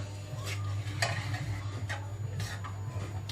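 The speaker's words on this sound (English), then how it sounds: "Mix. Make sure all the flavours and all that are all nicely combined." A spoon stirs a slimming-friendly quiche mixture in a bowl, with steady, evenly spaced scraping strokes repeating about every second, close and fairly quiet over a low kitchen hum.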